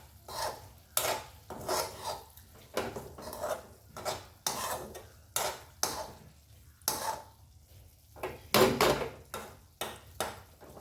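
A utensil scrapes and stirs through cluster bean (gavar) vegetable cooking in a pan in repeated short strokes, with soft clinks between them and no voices.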